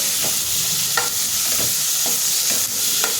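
Soaked whole masoor lentils sautéing with spices in a pan, giving a steady broadband sizzle broken by periodic scraping stirs of a spoon, close and fairly loud with no talking.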